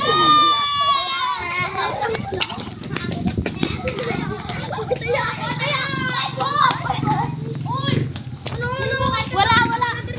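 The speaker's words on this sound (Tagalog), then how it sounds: "Ito mga bata naglaro." Children playing outdoors in a residential neighborhood in General Trias, a lively stream of high-pitched shouts, squeals and chatter from several kids, fairly close and continuous throughout.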